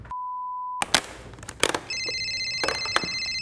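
Telephone ringing in a kitchen: a steady beep-like tone, then clattering knocks and a bright electronic ring pattern that repeats over the last second or so, fairly quiet overall.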